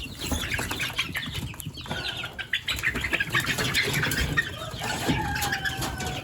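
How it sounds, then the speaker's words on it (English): Chicks in a brooder, among them an Australorp, peep and chirp in short, scattered calls alongside soft flutters and shuffling, close by and fairly quiet. "A couple of these chicks in here that are kind of mean."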